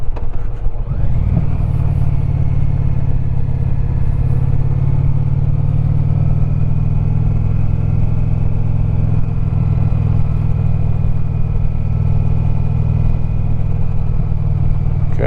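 A motorcycle rides the twisting Tail of the Dragon mountain road, its engine droning loud and steady with a rising note at the start, then holding a constant rumble alongside wind noise the whole way.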